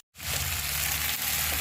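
Pasta tossed with vegetables in a frying pan gives a steady, close sizzle with soft scraping that runs unbroken after a brief silent start.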